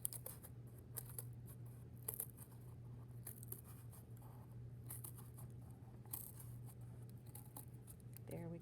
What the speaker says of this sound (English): I like to open my blade all the way and cut just up until I run into that line